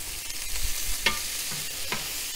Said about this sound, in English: I'm gonna go ahead and throw my veggies on